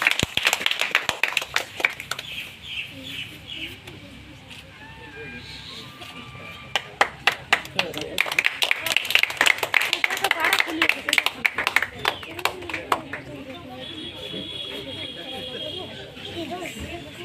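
Bursts of sharp, uneven hand claps from a small group rise in the middle stretch, mixed with scattered taps and people talking throughout.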